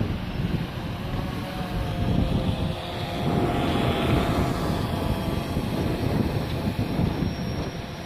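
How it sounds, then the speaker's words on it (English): DJI Phantom 3 quadcopter drone flying overhead, a faint whirring propeller whine that swells as it passes above and then fades, with light wind noise on a phone microphone. "You can just hear it going overhead now."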